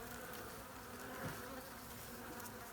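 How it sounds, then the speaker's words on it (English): A massive seven-foot hive of bees behind a chimney is being cut out of a wall. A dense swarm hums in a steady, continuous buzz, fairly faint and even throughout. "Perfect time to be cutting bees out of a wall"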